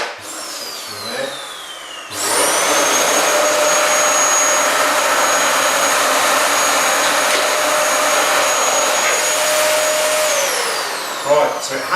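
A Kirby vacuum cleaner switches on after a couple of seconds and runs loud and close with a steady high whine and airy roar, then winds down near the end.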